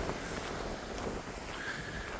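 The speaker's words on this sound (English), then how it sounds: "Fast wind is sometimes getting violent." Steady rushing wind buffets the microphone on a Pacific beach walking track in Victoria, British Columbia, a constant broadband roar with no speech.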